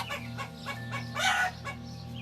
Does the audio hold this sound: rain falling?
no